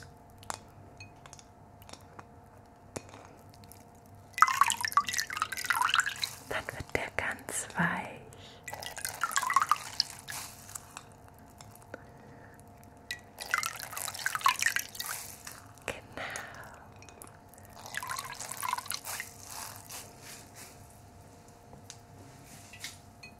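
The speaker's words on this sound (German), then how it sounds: "Ich habe mir hier mal so eine kleine Schüssel mit Wasser vorbereitet. Und ihr werdet jetzt sehen, wenn ich den da reintunk" Liquid drips and soft splashes as something is dipped into a small bowl of water during a night skincare routine, arriving in several separate bursts of close, quiet dripping with whispered speech between them.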